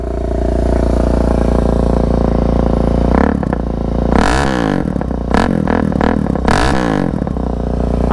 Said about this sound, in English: So that's how the Black Widow exhaust sounds if you're just here for that.